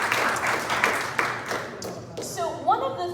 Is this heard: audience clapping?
yes